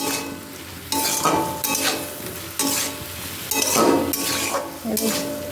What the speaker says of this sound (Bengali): ভেজে রাখা ফুলকপিগুলো এর মধ্যে দিয়ে দেবো একটু মিশিয়ে কষিয়ে নেব